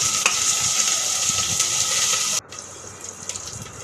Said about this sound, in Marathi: कांदा नीट परतून आपण गोल्डन ब्राऊन होईस्तोवर हलवूया